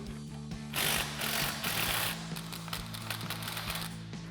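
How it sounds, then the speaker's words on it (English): An 18mm ratcheting wrench and swivel socket work the sway bar end link nuts on a Jeep Gladiator JT during a suspension lift install, making rapid, close clicking bursts against a steady background hum. "We're going to take our 18mm wrench and our 18mm swivel socket and remove these two."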